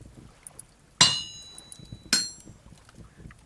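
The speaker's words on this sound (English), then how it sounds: "we just sort of start smacking all this copper into place here, like so." Hammer strikes on copper being shaped into a saw blade at an anvil in Vintage Story, two sharp ringing metallic clangs about a second apart, each with a bright decaying ring, over faint background sound.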